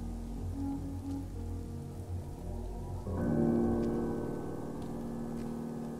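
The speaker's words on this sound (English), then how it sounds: "At least I can get out of the fucking rain." Steady rain falls in the ArmA 3 military game, a constant wash of patter beneath low droning tones that swell slightly partway through, with no voices.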